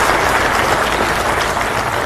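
Dense, steady applause from a gathering of uniformed army personnel, loud and close, filling the moment without voices.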